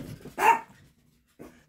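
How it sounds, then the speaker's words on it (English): A dog barks at new neighbors with one loud close bark after a low growly rumble, followed by a short quieter woof a second later. "excuse my dogs, they are barking at my new neighbors"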